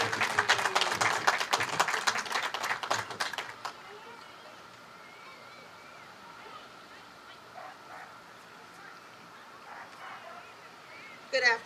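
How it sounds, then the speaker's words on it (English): Crowd applause at a Stop the Hate rally greeting Councilwoman Ingrid Harrison, a loud burst of clapping for a few seconds that quickly fades to quiet room noise, with a brief flare of sound at the end. "Please, let's give a resounding applause for Miss Harrison as she comes to the stage"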